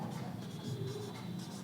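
Writing on a board during a Hindi-language maths lesson on triangle and trapezium area, a steady scratchy stroke sound running continuously at close range with no voices over it.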